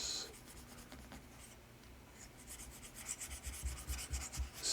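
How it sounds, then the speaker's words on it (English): A diagram being erased from a board, soft dry rubbing strokes, faint at first and then growing into quicker rhythmic back-and-forth scrubbing toward the end, with no talking. "I'm just going to erase all this"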